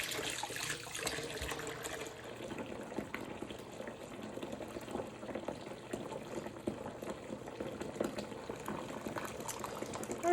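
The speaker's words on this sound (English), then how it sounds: "I'm just going to go ahead and fill my sink up." Tap water runs into a kitchen sink, a steady close splashing and gurgling stream that holds at an even level throughout, with no voices.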